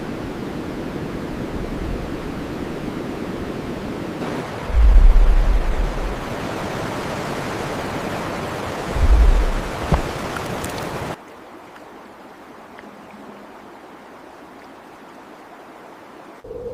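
Steady rushing of freezing rapids in a crystal-clear Patagonian stream, a broad continuous wash of water with a couple of brief low thumps, then dropping abruptly to a much quieter background hiss for the final seconds.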